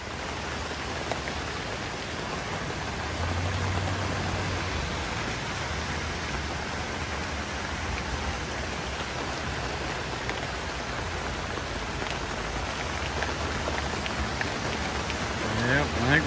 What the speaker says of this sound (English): Starting to rain a little harder.